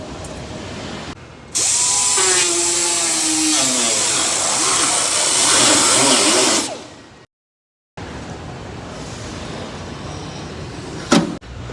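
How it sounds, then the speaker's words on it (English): Aircraft skin on a Piper being trimmed with a high-pitched power tool, a loud steady whine lasting several seconds that shifts in pitch as it cuts, then a pause and quieter handling noise. "Now we're going to go ahead and trim this skin, that way the spar can slide through here nicely without binding up."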